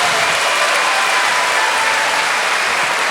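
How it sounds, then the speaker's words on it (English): Crowd applause at a Finnish MMA fight, a dense, loud, continuous roar of clapping and cheering filling the whole stretch with no talk. "And a thunder of applause from the Finnish crowd here tonight."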